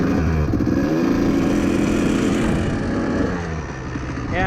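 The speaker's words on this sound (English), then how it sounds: "this is about the quietest two-stroke you can get" A Kawasaki KDX220 two-stroke trail bike runs steadily with its stock airbox lid and silencer fitted, a rich-tuned, smoky engine giving a loud, continuous buzzing idle that dips slightly near the end, with no talk over it.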